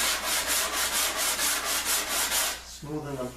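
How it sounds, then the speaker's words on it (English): The underside of a wooden ring for a pub table is hand-sanded with 100-grit sandpaper. Close, even back-and-forth scratching strokes, roughly a dozen in a steady rhythm, are followed by a short tonal sound at the end. "I'm just hitting the bottom of this ring with some 100 grit here"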